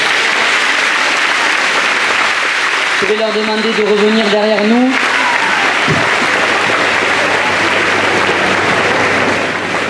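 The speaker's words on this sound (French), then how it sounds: "vous pouvez les applaudir à nouveau" Loud, sustained applause from a crowd at a village festival prize ceremony in Bessan, France, fills the whole stretch, with a voice briefly speaking over it in the middle.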